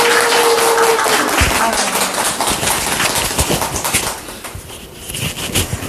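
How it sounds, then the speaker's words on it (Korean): An audience at a book talk applauds to welcome the author, with dense, close clapping that fills most of the moment and thins out near the end. "제가 작가님을 소개하면 큰 박수로 맞아주시면 감사하겠습니다."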